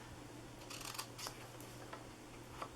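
Scissors snipping paper while making a small Christmas treat bag, several quiet, close crisp snips spread over a couple of seconds against a faint steady hum.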